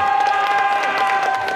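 Applause from the audience at a cosplay convention's costume contest: a dense, even wash of clapping that holds steady for a moment, with a sustained musical tone running underneath.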